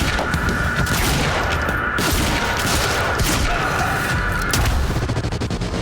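Heavy pistol fire in the video game Quantum Break, a dense run of loud, close gunshots and booming impacts over continuous combat noise.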